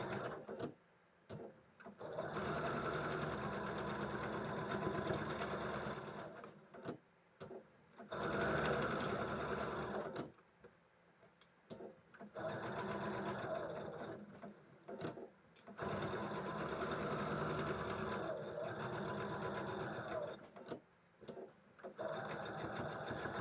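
A sewing machine stitches the last seam of a quilt block in several steady runs, starting and stopping with short pauses between bursts, close and loud with no talking.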